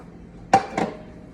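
A plate being taken out in a kitchen while making a Greek omelette gives two quick ceramic clinks, sharp and close, with quiet room tone around them.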